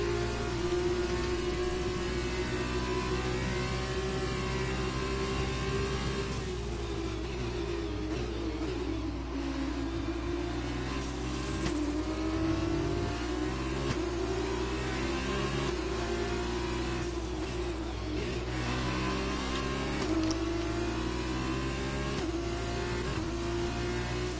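Several F2 race cars in an F1 video game at Monza howl past together, engines droning steadily with rising and falling revs as they jostle around a lapped car; a continuous loud, close mechanical whine with no speech.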